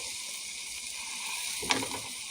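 Ground lamb, about 1.5 pounds, sizzling in a pan: a steady, close hiss of frying with one brief clatter partway through, no voices.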